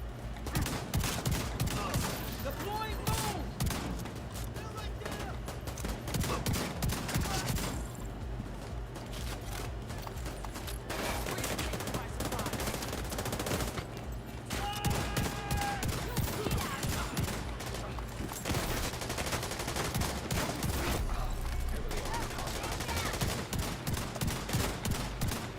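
Sustained gunfire in The Division 2 video game, with rapid automatic bursts nearly continuous throughout and brief pauses between volleys, loud and close.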